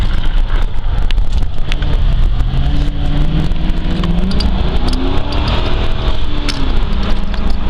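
A 2006 Ford Crown Victoria P71 Interceptor on a cold day, its engine giving a steady, loud, close drone from inside the cabin, with road and tire roar throughout and slight shifts in engine pitch.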